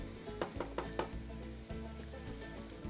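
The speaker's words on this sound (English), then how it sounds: "once you get it in there, you just give it a bit of a stir" Food frying in batches in hot oil while being stirred: a soft, steady sizzle runs underneath a few quick metallic clinks of the utensil against the pan, quiet and close.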